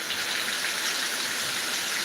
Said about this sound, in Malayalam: രാത്രി നല്ല അട്ടിപ്പൊളി മഴ പെയ്യുന്നുണ്ടോ